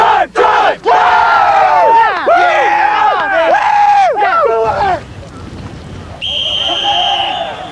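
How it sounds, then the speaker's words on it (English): A paintball team in red shouts a loud, rhythmic group cheer at a world championship match, several voices chanting close by in bursts before the noise gives way to wind and distant chatter. "give them a big turtle cheer"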